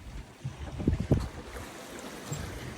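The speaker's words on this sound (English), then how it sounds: "except for the sound of the ocean and creaking sound of the boat" Open ocean washes steadily around a sailboat at sea on passage from Los Cabos to Hilo, with a couple of soft creaks and knocks from the boat rising just above the quiet, even background.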